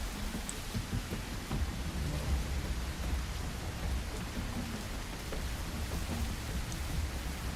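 Steady rain falling in The Isle, a dinosaur survival video game, a dense even hiss with low rumble throughout, no speech.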